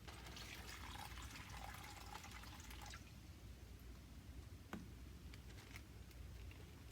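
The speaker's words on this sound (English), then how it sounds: "carefully pour the water inside" Water poured carefully from a container into an open Ziploc bag at home, a steady trickling pour with light splashing for about three seconds, then fainter drips and small liquid sounds as the flow stops.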